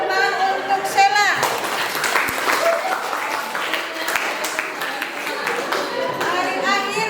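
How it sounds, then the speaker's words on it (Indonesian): A classroom audience claps for a student named Sheila, a dense burst of applause lasting the whole stretch, with children's voices chattering through it. "Berikan tepuk tangan untuk Sheila."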